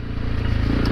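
A Honda CRF300L Rally motorcycle with a loud aftermarket Moto X exhaust idles and runs close by, a deep, steady throbbing drone with rapid pulsing, no talk over it.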